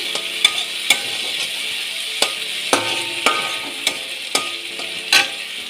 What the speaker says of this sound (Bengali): এটা একটু নাড়াচাড়া করে নেব। তারপরে এর মধ্যে দিয়ে দেবো সামান্য হলুদ দিয়ে দিয়েছি।